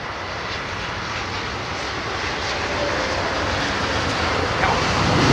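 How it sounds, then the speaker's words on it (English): An Aeromexico jet airliner landing at London Heathrow in wet weather gives a broad engine roar that swells steadily as it nears, loud and continuous, with no voices. "Aero Mexico could make some noise"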